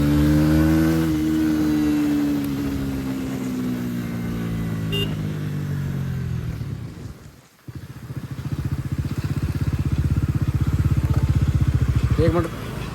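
Bajaj Pulsar NS400Z motorcycle pulling hard in first gear, the engine note climbing steadily in pitch, then a brief drop during a shift before a rough, loud drone resumes.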